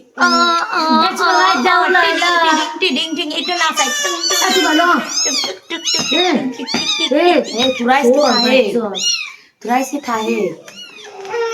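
A cat meows repeatedly in rising and falling cries, mixed closely with children's voices talking and calling over it throughout, with a brief pause near the end.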